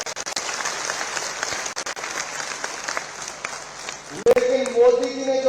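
A large crowd at a political rally on the Ramlila ground in Gagret applauds loudly and continuously, a dense, even wash of clapping that breaks briefly before a voice speaks over the tail end.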